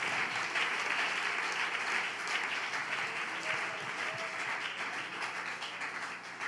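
A church congregation applauds together in a long, steady wash of clapping that holds evenly for several seconds.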